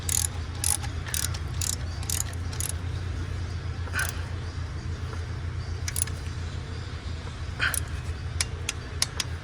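A torque wrench tightens engine bolts to 18 ft-lb on a Chevrolet Tahoe during a valve lifter and oil manifold replacement, giving a run of sharp, close ratcheting clicks at irregular intervals over a steady low hum.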